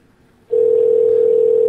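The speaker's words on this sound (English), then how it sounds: "You may hear a dial tone coming up." A steady, loud telephone dial tone starts abruptly after a brief quiet moment and holds unbroken at one pitch.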